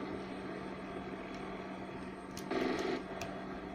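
Steady helicopter rotor and engine drone in the video game Desert Combat, fairly quiet and continuous, with a short louder burst near the end as the helicopter goes down.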